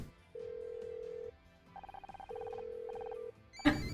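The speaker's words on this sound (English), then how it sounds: "Oh my heckin' goodness, this is my phone." A phone rings in the Murder By Number video game: steady electronic tones in two repeated bursts, clean and moderately loud, with no voices over them.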